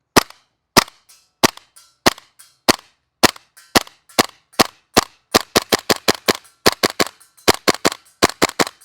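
A KWA Tac-9 airsoft gun fires a long series of sharp, close cracks at a target, starting as evenly spaced single shots and quickening into rapid bursts.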